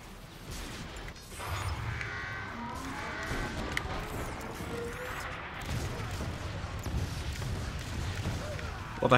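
Enemy fire in the video game Transformers Fall of Cybertron: scattered distant booms and impacts ring out over a low mechanical rumble, moderately loud, with a sharp burst at the very end.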